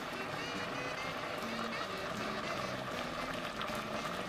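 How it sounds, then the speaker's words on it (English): Palm oil pours into a pot of simmering yam porridge, a steady bubbling and liquid hiss running continuously under a speaking voice and low background music. "what you're gonna want to do is pour your palm oil"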